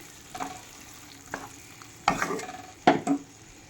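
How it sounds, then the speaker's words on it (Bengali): A spoon scrapes and stirs through cumin and coriander powder with other spices in a pan in several short bursts, with a faint sizzle of frying in between. "জিরে আর ধনের গুঁড়ো দিয়ে আবার একটু নেড়ে নিচ্ছি।"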